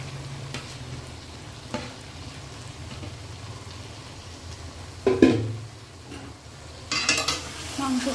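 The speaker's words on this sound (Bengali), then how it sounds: "মাংসটা দিয়ে ভালো করে নাড়াচাড়া করে ভালো করে এটা কষতে দেবো।" Mutton sizzles in a pot of spice masala while it is stirred, giving a soft, steady frying hiss under scraping stir strokes, with a couple of louder utensil knocks against the pan partway through.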